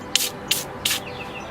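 Three short, close, bright hissing bursts of spray, evenly spaced, directed at the dirty engine bay of a Honda Type R during a strut bar install.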